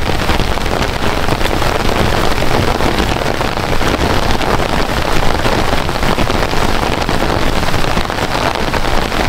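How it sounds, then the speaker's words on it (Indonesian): Heavy rain pours steadily over an open golf course, a dense, constant hiss of drops spattering the grass and ground, close and loud throughout with no pauses. "Gila hujan terus banget coy."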